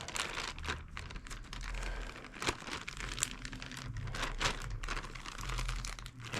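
A closed Ziploc bag holding steak marinade with garlic and soy sauce is squeezed and handled, giving steady close crinkling and crumpling plastic noise with sharp crackles, no talk.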